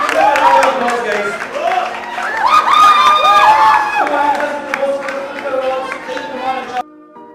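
Audience cheering and applause at a quiz-style show, a dense crowd roar with shouts and whistles swelling in the middle and then fading before cutting off.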